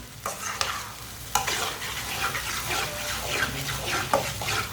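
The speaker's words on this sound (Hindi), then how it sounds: "अंडे डाल के भिंडी को 2-3 मिनट के लिए पका लेना।" Okra and eggs frying in a pan, a close, busy sizzle with wet scraping and repeated spatula knocks as the mixture is stirred.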